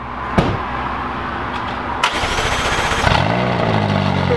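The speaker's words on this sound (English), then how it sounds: "It's a 570S startup." A McLaren 570S supercar engine cranks and fires up, settling into a loud, steady idle close by with a rising rumble toward the end; no one speaks.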